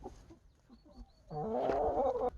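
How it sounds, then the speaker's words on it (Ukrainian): Dominant cross hens and a mixed-breed rooster in a farmyard poultry flock cluck and call, softly and scattered at first, then a louder, sustained burst of clucking near the end. "А всі ці курочки кольорові це вже курячі кроси домінанти"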